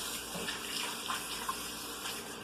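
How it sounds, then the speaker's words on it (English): A tap runs in a steady splashing stream while soapy hands are rinsed under it. The flow is moderately loud and continuous, with small splashes rising now and then. "So first thing we want to do is always is wash our hands."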